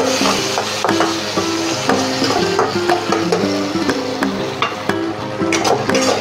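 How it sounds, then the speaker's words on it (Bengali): Medium-sized onion frying in oil in a kadai, with a constant sizzle under repeated spatula scrapes and knocks against the pan, close and fairly loud, no talking. "ওই তেলে পেঁয়াজটা ভেজে নেব।"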